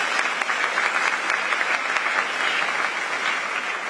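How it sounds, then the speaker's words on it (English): Dense, continuous applause from a large audience fills the hall at an awards ceremony honouring Ghana's top WASSCE students, a steady even roar of many hands clapping without pause. "Please clap for them very well."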